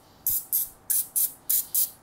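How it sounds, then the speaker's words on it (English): Six short, hissing bursts of aerosol cooking spray into a muffin tin in quick, even succession, close and fairly loud with no talking. "I'm just going to spray it lightly with a little bit of cooking"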